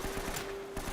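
Rapid gunfire at enemies in Uncharted: Drake's Fortune, a quick burst of close shots over a steady tone.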